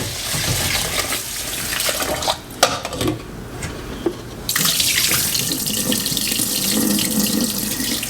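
Tap water runs steadily into a pot while rice is rinsed in a kitchen sink, a loud close splashing rush that briefly quiets partway through, then resumes with swirling and sloshing.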